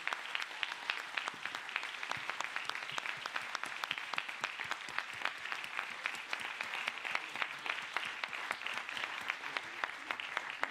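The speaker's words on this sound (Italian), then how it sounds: "Applauso a Piero, davvero, meritatissimo, grazie." Sustained applause from the audience at the Lovers Film Festival closing ceremony, many hands clapping in a thick, even roar that holds steady throughout, fairly distant and soft.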